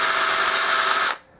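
A power drill whirs steadily and loudly, boring into a broken bolt on a pit bike, then cuts off abruptly near the end.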